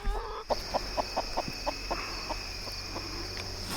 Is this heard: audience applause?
no